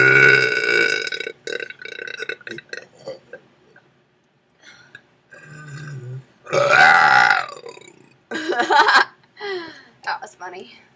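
Several loud, throaty burps from a young woman come in separate bursts, close to the mic, mixed with chuckles and bits of talk between them.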